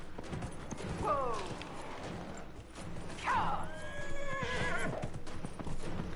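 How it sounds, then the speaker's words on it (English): Horses race in a video game, with rhythmic hoofbeats pounding steadily beneath two distinct whinnies, one short and one longer, over a busy game soundscape. "Can't you see we're racing horses?"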